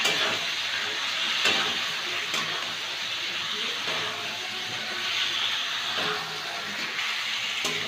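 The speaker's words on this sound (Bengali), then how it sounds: "সামান্য একটু জল দেব, দিয়ে আর একটু কষাবো।" Broccoli curry masala sautéing in a pan with a splash of water, a steady, fairly loud hiss and sizzle running throughout with a few soft stirring knocks.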